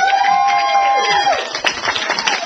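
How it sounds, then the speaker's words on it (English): Comedy club crowd claps and cheers loudly for themselves, a dense wash of applause with whoops, while a sustained whistle-like tone glides downward at the start. "give yourself a round of applause"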